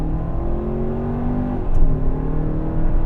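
A 2024 Hyundai Santa Fe SUV engine pulling hard at full throttle, a steady droning hum with rising tonal whine inside the cabin, loud and continuous with a brief dip midway, no talking.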